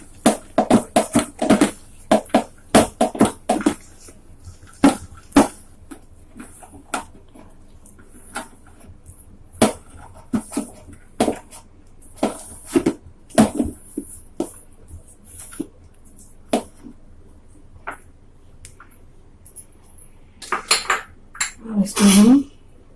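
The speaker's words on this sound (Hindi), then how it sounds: "अच्छे से हमें फेंटना है जब तक घी और चीनी अच्छे से व्हाइट ना हो जाए।" Ghee and sugar beaten by hand in a bowl, a spoon clinking and scraping against the sides in quick irregular bursts, close and fairly loud, with a longer scraping stroke near the end and no talk.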